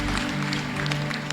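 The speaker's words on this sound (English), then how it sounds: "Clap for Jesus Christ." Applause from a crowd, a dense steady patter of clapping with a low hum underneath, moderately loud and brief.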